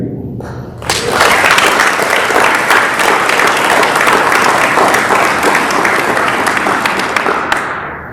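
An Air Force Reserve Command awards audience gives a loud, dense round of applause for those being recognized, swelling in abruptly and holding steady for about six seconds before fading.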